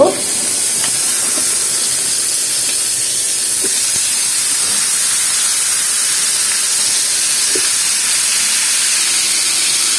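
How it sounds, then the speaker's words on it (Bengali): Pointed gourd and potato pieces fry in the oil left over from frying hilsa fish, making a loud, steady hiss that runs unbroken from start to end with a few faint clicks. "এগুলো মাছের তেলে ভেজে নিচ্ছি"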